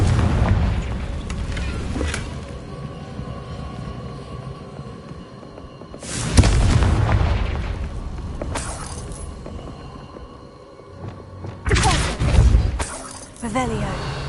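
Confringo fire spells burst in Hogwarts Legacy, three loud booming explosions with crackling shatter at the start, around six seconds and near twelve seconds, trailing off under game ambience, with a speaking voice in places.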